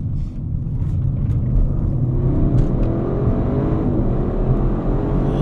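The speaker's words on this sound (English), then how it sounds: "So addicting to just push it all the way to the floor, that gas pedal." An Audi RS6 Performance estate accelerates hard with the gas pedal floored, its engine note climbing steadily in a loud, continuous rising roar heard close up from inside the car.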